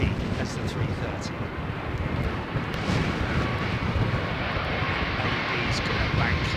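An American Airlines Boeing 777-200 with Rolls-Royce Trent engines roars steadily at Heathrow in high winds, a broad continuous jet rumble mixed with gusty wind buffeting on the microphone, with occasional speech over it.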